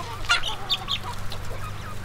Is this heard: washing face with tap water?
no